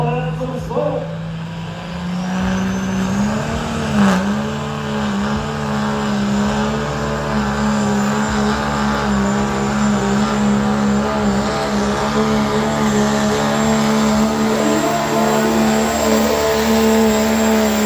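A diesel pickup truck roars at full throttle during a sled-pull competition, its engine note loud, close and steady for the whole stretch, with a sustained low drone and rising pitch as it pulls, while an announcer talks over it.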